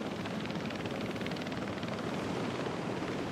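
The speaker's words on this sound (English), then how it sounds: "That looks like a tour helicopter." Tour helicopter flying through a snowstorm in Jurassic World Evolution 3, a constant dense whooshing drone with a faint rotor flutter, loud and unbroken for a few seconds without talk.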